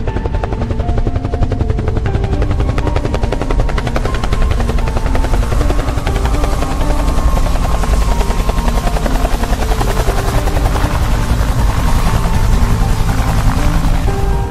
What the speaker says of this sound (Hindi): सारे लोग इंजन को स्टार्ट कर देते हैं और हेलीकॉप्टर स्टार्ट हो जाता है।